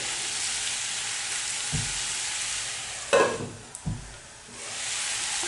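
Potato and beans stir-fry in a small pan, a steady close sizzle throughout, broken by a few scraping stirs of the spatula against the pan.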